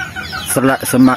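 Chickens cluck close by in a short, busy burst, their throaty calls overlapping with a murmur of background noise.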